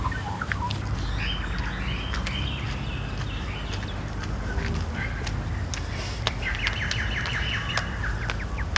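Birds chirping and squawking at an outdoor feeding spot, with occasional duck-like quacks scattered over a steady low rumble of background ambience; calls come in brief bursts, moderately distant, with no talk.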